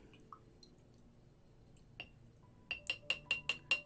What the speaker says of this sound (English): Goal here is to just wash my brush off.